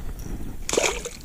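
A released bass splashes away through shallow pond water and grass, a sudden sloshing burst close by after a quiet stretch, fading out over about half a second.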